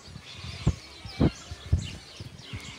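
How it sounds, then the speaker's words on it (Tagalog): Many birds call faintly at a wildlife park in Australia, with soft chirps scattered through the background and a few low thumps nearby. "Daming ibon dito guys. Nakakatuwa."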